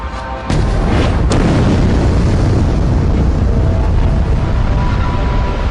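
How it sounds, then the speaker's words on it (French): A massive asteroid impact explosion over San Francisco: after a brief quiet beat, a sudden thunderous boom erupts into a sustained, roaring wall of rumbling noise that stays loud and dense throughout. "L'explosion est apocalyptique."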